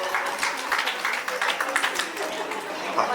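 Applause and rapid clapping from guests at a baby shower celebration, a dense patter of hands fairly close by that continues through the clip, with voices mixed in.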